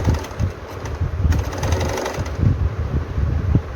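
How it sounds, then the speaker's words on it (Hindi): A sewing machine stitches a seam on palazzo pants, its motor running in a steady, close, continuous whir with a rhythmic mechanical pulse throughout. "तो इस तरह से हम यहाँ पर सिलाई दे लेंगे।"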